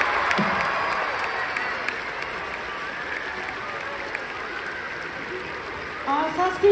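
An audience at the MGP 24 music show claps steadily, a broad even wash of applause and crowd noise heard from a distance, with a presenter's voice over it near the end.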